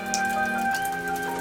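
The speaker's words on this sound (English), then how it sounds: "It's not really cold, but it's raining." Rain falls outside as a soft spattering hiss with scattered droplet ticks, overlaid by faint steady tonal hums, moderately close and continuous, with no talking.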